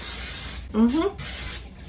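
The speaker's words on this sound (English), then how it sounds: "Let's add some cooking spray, non-stick cooking spray to the casserole dish." Non-stick cooking spray hisses into a casserole dish in two steady bursts, close and fairly loud, separated by a short pause filled with a brief voice.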